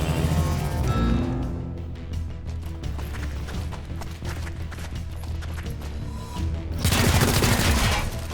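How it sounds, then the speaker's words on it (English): Dense, continuous gunfire from a firefight in the tactical game XCOM Chimera Squad, rapid overlapping shots and bursts that run steadily and then swell louder near the end. "Taking fire, but it is poorly aimed."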